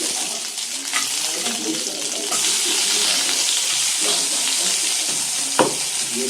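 Grated coconut and three cardamom pods frying in a pan for payesh, a continuous bright sizzle with occasional scraping stirs and a sharp clink near the end, no speech.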